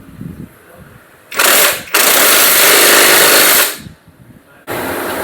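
A power tool tightens the crank-side nut on a Bajaj NS 160 engine during reassembly, firing three loud, harsh bursts close up: a short one, a longer sustained run, then a final burst after a brief pause.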